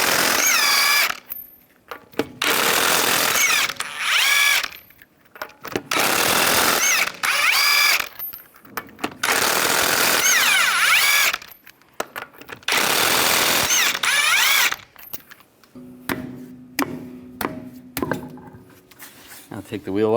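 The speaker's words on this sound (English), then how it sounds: "Now we're going to remove the wheel, use a 19mm socket," Impact wrench spinning lug nuts off with a 19mm socket on a 2011-2019 Ford Explorer wheel, loud whirring bursts of a few seconds each separated by short pauses, repeated several times close by.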